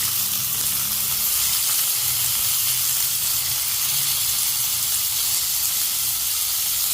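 Taro, capsicum, sweet potato and white pumpkin sautéing for Thanjavur sambar, a steady hissing sizzle with low rumbling underneath, constant and close throughout.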